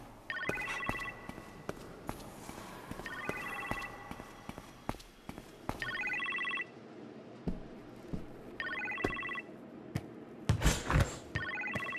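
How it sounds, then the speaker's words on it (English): Telephone ringing in the kitchen in the VR game Marvel's Iron Man VR, repeated electronic ring bursts in a steady pattern over game music and footsteps, with a louder impact near the end. "You appear to have a phone call in the kitchen, sir."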